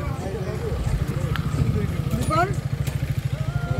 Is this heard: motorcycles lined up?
yes